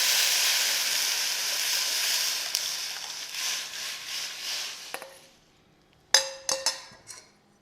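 Spices tempering in hot oil for tomato rasam give a loud, steady sizzling hiss that slowly fades, then cuts to near silence broken by a few sharp clicks and clatters.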